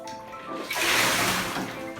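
Shower water runs in a bathtub during a child's bath with toy cars, a broad steady hiss that starts after a quiet moment and continues, with faint voices in the background.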